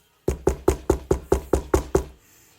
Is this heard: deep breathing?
no